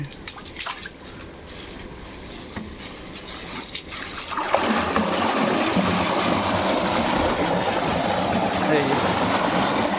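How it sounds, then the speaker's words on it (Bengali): Dirty water drains from a biofloc fish tank, starting after a few quiet seconds as a steady, close gushing rush that continues to the end. "এখন যে ময়লা পানিটা আসতেছে"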